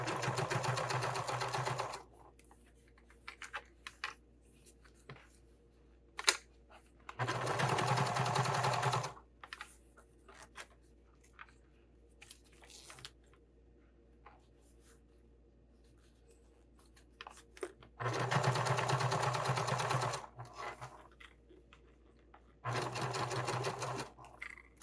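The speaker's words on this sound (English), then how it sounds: "you're sewing over the top of the pocket" Sewing machine stitching across the top of a sling bag pocket, running in four separate bursts of rapid mechanical whirring of about two seconds each, with quiet handling pauses between them.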